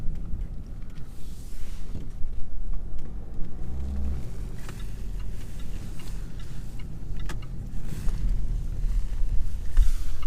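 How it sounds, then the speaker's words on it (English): A 2017 Land Rover Discovery SD4 diesel pulls out of a junction at half throttle, its engine a steady low rumble heard from inside the cabin with faint ticking, no voices. "Just give it half throttle. Yeah, responds pretty quick."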